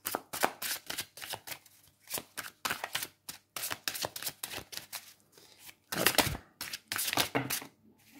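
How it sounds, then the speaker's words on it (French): A tarot deck being shuffled by hand, with repeated crisp riffling bursts in an irregular rhythm, close and fairly loud, no talking. "le jeu a besoin d'être mélangé un petit peu avec les autres groupes d'avant"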